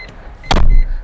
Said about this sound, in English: roll the window down